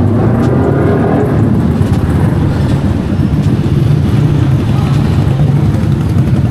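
A loud Yamaha Y15ZR motorcycle engine runs continuously at speed with a steady low rumble and wind-like noise, close and unbroken throughout.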